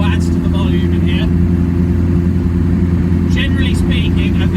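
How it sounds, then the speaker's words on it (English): A Reliant Robin's engine drones loud and steady from inside the cabin, its blowing exhaust adding a faint putt-putt beneath the constant rumble, with brief higher squeaks over it. "There's a very slight putt-putt noise"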